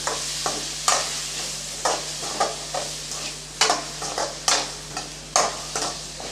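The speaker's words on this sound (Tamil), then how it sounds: "இப்போ எல்லாத்தையும் சேர்த்து நல்லா வறுத்து விட்டுக்கலாம்" Roasted ground masala and baby potatoes being stir-fried in a pan for a potato fry, with a steady close sizzle under repeated scraping stirs of a spoon about every half second.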